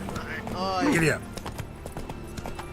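Horse hooves clip-clop at a gallop in The Witcher video game, a steady running beat under game music, with a spoken voice in the middle section.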